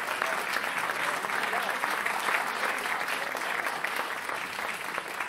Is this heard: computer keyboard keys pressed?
no